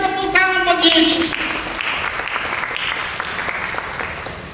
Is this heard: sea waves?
no